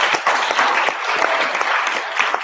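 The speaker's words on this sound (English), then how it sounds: "Give yourself a round of applause, please." A live audience at a birthday tribute event giving themselves a round of applause, close, lively clapping from a modest crowd with distinct individual claps, steady and unbroken for the whole stretch.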